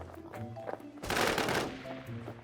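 A burst of gunfire rattles out in the survival shooter Infestation: The NewZ, a dense, loud volley lasting about half a second, set among softer game sounds and voices before and after.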